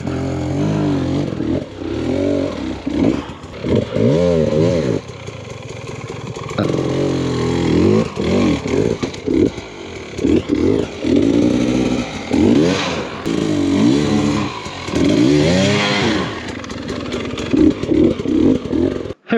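A Beta XTrainer 300 enduro motorcycle picks its way along a technical trail, its two-stroke engine revving up and down in close, loud, uneven bursts with brief dips between throttle blips.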